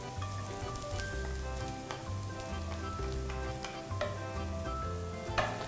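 Garlic and dried chillies being stir-fried in a pan, a steady, busy sizzle with scraping and clinks of a utensil against the pan, no voices.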